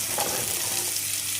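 Vegetables for sambar are swished and rinsed in water in a home kitchen, giving a short, steady watery wash close by with no talking.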